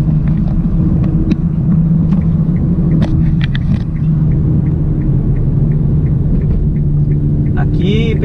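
A car drives through flowing traffic in Fortaleza, with a steady engine rumble and road noise throughout and a voice talking over it.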